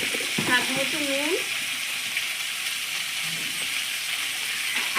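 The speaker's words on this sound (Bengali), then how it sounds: "এবার লতিটা আমি ভাজা ভাজা করে নেব" Kochur loti (taro stolons) frying with salt, turmeric and chilli powder in a pan: a steady, loud, close sizzle that fills the whole stretch, with a brief voice early on.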